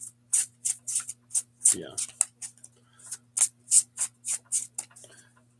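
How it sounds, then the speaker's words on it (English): A deck of tarot cards is shuffled in quick, crisp riffling snaps, a steady run of about a dozen close bursts, with a brief spoken word partway through. "Why am I shuffling?"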